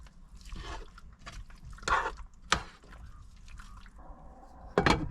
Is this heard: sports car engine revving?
no